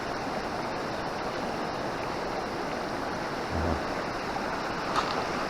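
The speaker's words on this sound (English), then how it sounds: "There's like a little waterfall over there." A forest stream and small waterfall in Tollymore Forest Park, Northern Ireland give a continuous rushing wash of water, fairly loud and unbroken, with no talk over it.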